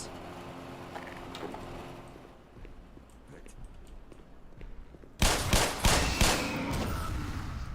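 Gunfire in the Half-Life video game, a quiet spell then a loud cluster of close shots in quick succession followed by lingering echoing noise.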